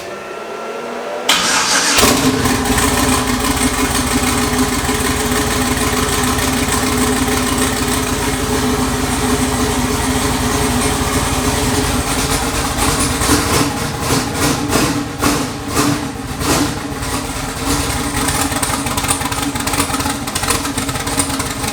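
A twin-turbo Chevrolet S10 truck engine cranks and catches, then settles into a loud, steady rumbling idle close by, with a few revs and small fluctuations toward the end.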